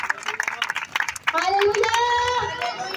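A church congregation claps loudly in a dense burst, then voices ring out with sustained cheering and calls over continued clapping.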